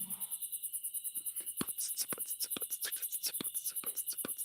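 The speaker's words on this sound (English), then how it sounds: "You're hearing the crickets here." Crickets chirp outdoors in South Africa in a steady, rapid high-pitched pulsing that runs throughout, with soft murmuring and scattered clicks underneath.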